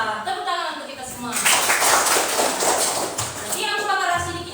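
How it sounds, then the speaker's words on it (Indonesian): Children in a classroom break into loud, dense applause lasting a few seconds, with some scattered chatter and shuffling under the clapping. "Tepuk tangan untuk kita semua."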